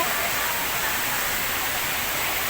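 River water rushes loudly at a waterfall resort at Villa Escudero, a constant broad roaring hiss that fills the scene close by without pause.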